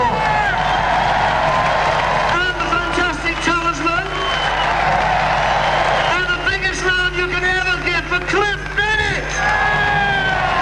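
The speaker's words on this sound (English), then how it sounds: "We need applause for other people." A concert audience at the Hastings Pier Big Beat reunion applauds and cheers in a loud, sustained roar of clapping with whoops and shouts, steady throughout with a brief dip partway through.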